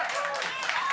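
A comedy-club audience at a stand-up show claps in a steady, dense wash of applause lasting about a second, loud and close with no gaps.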